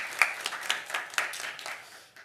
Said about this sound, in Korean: 우리 전도팀 위해서도 격려의 박수, 감사의 박수 해주시죠